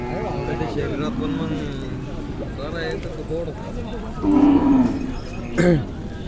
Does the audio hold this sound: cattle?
yes